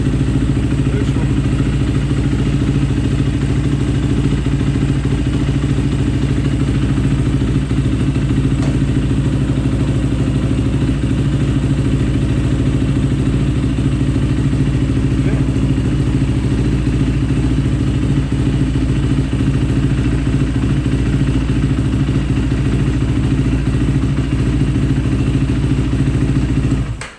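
A motorcycle engine runs loud and close as the rider works through all the gears, down to first and into neutral, on a bike with a freshly repaired clutch line; the drone is steady and unbroken with no talking.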